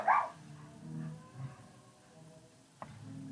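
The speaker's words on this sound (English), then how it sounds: "Yeah, you can hear the dogs going off." Dogs bark outside near a street where people are crossing, with one sharp bark at the start followed by fainter yips and rumbles in the background; no one speaks.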